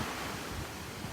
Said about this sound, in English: the waves break right up on the shore because it drops off and gets real shallow